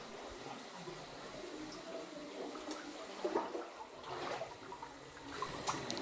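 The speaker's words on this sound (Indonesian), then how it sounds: "Yang ini yang lagi saya putar nih keluar air panas." A tap runs hot sulphur spring water at a bathing spot, a faint steady rushing and splashing of flowing water with small gurgles and bumps, heard alone without talk.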